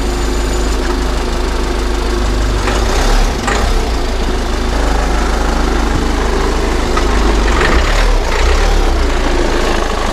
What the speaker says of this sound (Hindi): गाड़ी की आवाज़ देखी आपने कैसी है डीजल की,